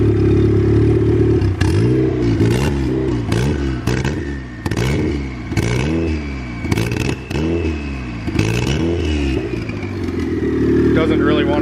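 Turbocharged Honda Civic engine with a hissing leak and its distributor fully advanced, struggling to rev: a rough idle broken by a series of short, repeated throttle blips that rise and fall without climbing freely, loud and close.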